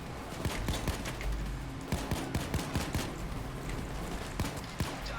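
Gunfire in the heist shooter Payday 2, scattered sharp shots and quick bursts cracking irregularly over a rumbling game background for several seconds.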